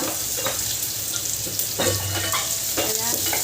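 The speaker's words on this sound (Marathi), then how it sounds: "इथे आपण मिरची वगैरे कट करून घेतलेली ती टाकणार आहोत मिरची कढीपत्ता" Chopped green chillies and curry leaves hit a spoonful of hot oil in a pan, a soft steady sizzle with a few faint stirring clinks, no talking.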